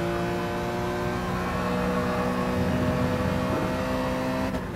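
A BMW E46 M3 engine in the Gran Turismo racing game drones at a steady, loud, sustained pitch, holding an even tone with no shifts and no talking.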